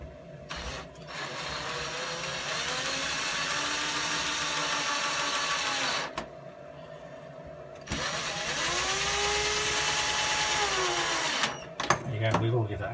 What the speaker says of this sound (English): Screwdriver or drill, whatever you need.